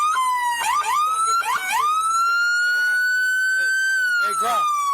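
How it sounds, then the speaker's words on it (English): Police car sirens wailing loud and close at a Houston police officer-involved shooting scene, a sustained rising and falling tone with harmonics running the whole time while voices shout over it. "Hey, Graf, kill the sirens for me"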